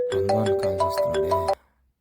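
A mobile phone ringtone for an incoming call plays a bright repeating melodic pattern of tones for about one and a half seconds, then cuts off abruptly into near silence.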